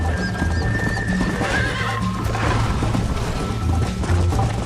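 A horse in Red Dead Redemption gallops with steady, rapid hoofbeats and lets out loud whinnies, the neighs rising clearly over the continuous pounding clip-clop throughout.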